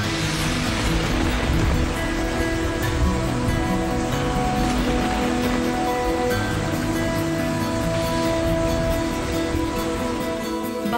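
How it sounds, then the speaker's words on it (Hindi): Steady, dense rain falls in Pakistan's Punjab, a continuous close hiss with a low rumble underneath that stays even throughout, with no talking. "तांदियावाला और भक्कर समेत मुतादिद इलाकों में भी बरसात का सिलसिला जारी है"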